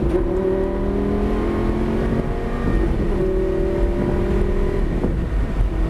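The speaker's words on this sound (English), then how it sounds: "Just a little lift of the throttle. Back inside, now back to throttle." A sports car's engine accelerates hard on a racetrack at Motorsport Ranch. A close, loud, continuous engine note with strong harmonics rises and dips slightly as the throttle eases and comes back on, with no talking over it.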